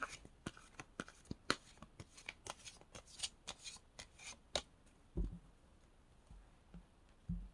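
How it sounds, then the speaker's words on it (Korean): Tarot cards being drawn and shuffled, a rapid run of crisp close-up card flicks and riffles, followed by a few softer slaps as cards are laid down. "4장의 카드 뽑겠습니다."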